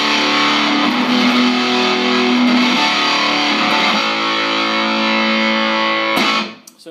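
A heavily distorted electric guitar chord through a Throbak Stonebender fuzz pedal at high gain rings out loud and sustained, with gritty fuzz-like saturation, then cuts off abruptly near the end.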